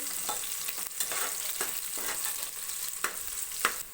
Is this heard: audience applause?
no